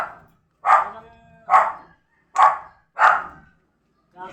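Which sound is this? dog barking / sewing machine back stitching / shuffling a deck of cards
dog barking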